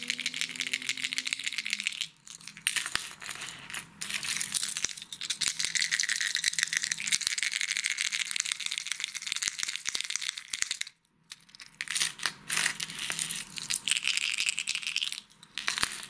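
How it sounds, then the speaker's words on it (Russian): A floating wobbler lure, a replica of the Megabass Deep-X 200 with a long-cast system and noise chamber, is shaken close up, giving a busy, continuous metallic rattle that briefly stops twice. "Также приманка шумящая."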